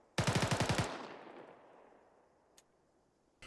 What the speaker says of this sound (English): Now I'm on full automatic fire mode. I'm going to do 3 to 5 round burst.